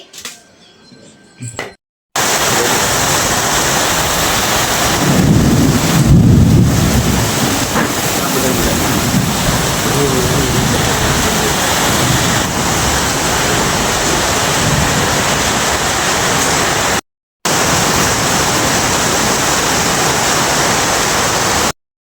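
Heavy rain pouring down during the Ugadi festival at home, a loud dense roar of falling water that continues steadily with a brief gap, with a short burst of voices near the start.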